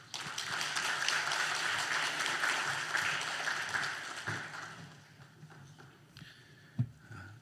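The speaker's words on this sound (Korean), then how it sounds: "우리 다시 한번 나오실 때 박수로 한번 환영하겠습니다" A church congregation claps to welcome a missionary at a Sunday worship service, a steady, moderately loud applause that fades after about five seconds, followed by a single sharp knock.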